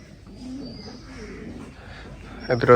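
Soft, low cooing of a male and female pigeon pair in short phrases close by, with someone talking over it and a clatter at the end.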